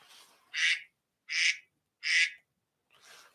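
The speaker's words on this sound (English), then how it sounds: "My ringtone's a duck." A phone ringtone plays a duck quacking, with four evenly spaced, loud quack bursts repeating in a steady rhythm against near silence.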